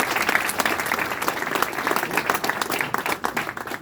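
An audience breaks into sustained, dense applause welcoming a poet onto the stage at a Hindi Diwas poetry event, the clapping loud and continuous throughout.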